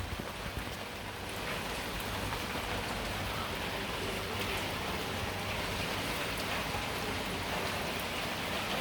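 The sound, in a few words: heavy rain falling on a camp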